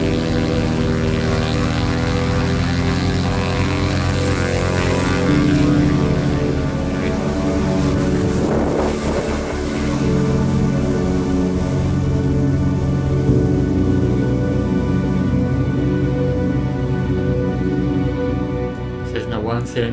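A Cessna 172 XP propeller plane strains to take off from a muddy strip at high density altitude on small tires, its engine droning loud and steady with a shifting pitch throughout.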